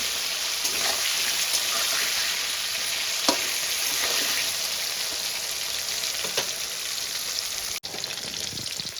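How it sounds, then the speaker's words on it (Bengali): Potato pieces coated in salt and turmeric fry in hot mustard oil, a steady dense sizzle running throughout with a few soft clicks and scrapes of stirring, close and alone without talk. "এবার আমি আলুগুলোকে লাল লাল করে ভেজে তুলে নেব।"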